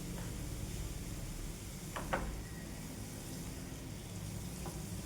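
Chickpea leaves cooking down as a vegetable dish in a pan give a faint, steady simmering sizzle, with a couple of brief spatula scrapes near the middle.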